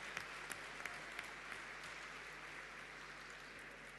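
A seminar audience claps to greet the arriving mayor of Huechuraba: a sustained, even round of applause from a roomful of people, moderately distant, with no talking over it.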